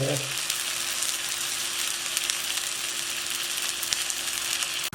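Thalipeeth flatbread frying in oil on a pan, with oil added into holes in the dough, giving a loud, dense, even sizzle that runs close and steady before cutting off sharply at the end.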